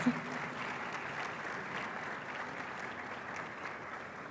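Distant, muffled applause from a lecture hall audience at KNUST welcoming a distinguished architect, a soft, even wash of clapping that stays faint throughout.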